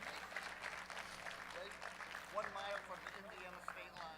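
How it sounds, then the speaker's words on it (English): Sustained clapping from a crowd at a powerlifting meet fills the whole stretch, steady and fairly loud, with voices and cheers mixed in. "Big round of applause for Jack Marcus from Michigan."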